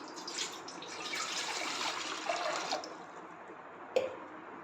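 Water pours into a cooking pot ahead of boiling vegetable noodles, a soft continuous splashing stream that stops abruptly, followed by a single faint clink, quiet and close with no talking.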